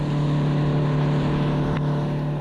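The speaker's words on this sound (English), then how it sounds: "the engine noise was quite apparent from mid-throttle and above" An outboard engine drives a Southern XF650 unlined aluminium boat at speed, a loud, steady droning hum with a strong low tone, mixed with rushing water and wind noise.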